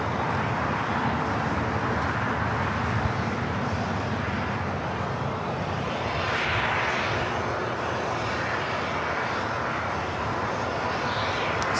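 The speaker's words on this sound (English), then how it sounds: "Swiss, flight 40 coming in from Zurich." A Swiss airliner on flight 40 from Zurich lands at LAX. A steady, fairly loud jet rumble holds the whole time, mixed with broad airport background noise.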